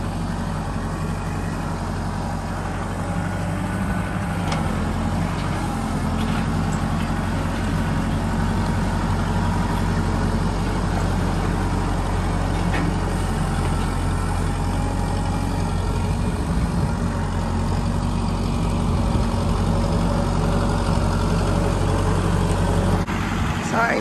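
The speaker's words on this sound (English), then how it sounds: "he's going to try to patch this mud up" A tractor engine idles steadily with a deep low rumble throughout, close by and constant, with faint outdoor noise on top, in cold, wet weather.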